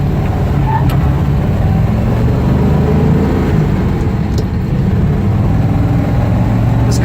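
1956 Ford Thunderbird with a 3-speed manual gearbox, engine running steadily, a low rumbling idle with constant broadband noise heard close and continuous, no voices.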